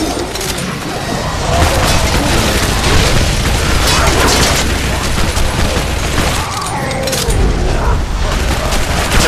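Dual pistols fire in rapid bursts through a Shadow Warrior (2013) shootout, dense gunfire layered with booms and explosions, loud and continuous with barely a pause.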